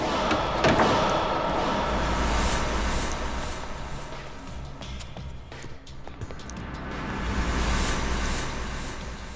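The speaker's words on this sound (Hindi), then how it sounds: "हर्ष, दरवाजा खोलो, हम लोग सीआईडी से हैं।" Banging and thuds at a door as CID officers demand it be opened, a loud slam near the start followed by continuous rumbling noise and scattered knocks through a tense scene.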